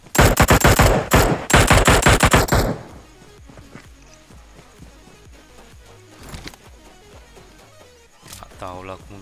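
Loud rapid bursts of automatic gunfire in PUBG on the Miramar map for a couple of seconds, then quieter scattered shots and game effects as background noise continues.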